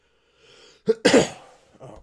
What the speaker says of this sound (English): I'm gonna be coughing, folks.